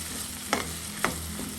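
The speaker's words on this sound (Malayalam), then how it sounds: "ഇടയ്ക്ക് നമുക്കിതൊന്ന് ഇളക്കി കൊടുക്കാം." Sliced onions sautéing in a pan for a kingfish masala roast sizzle steadily under two or three quick scraping stirs of a spoon.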